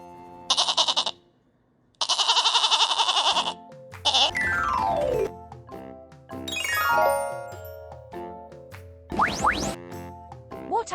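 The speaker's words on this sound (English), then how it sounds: "Do you know how goat sound?" A goat bleats in a farm-animal sound sequence: several bursts of wavering, nasal bleating at close range, followed by a run of ringing, tinkling chimes and bell-like tones between the calls.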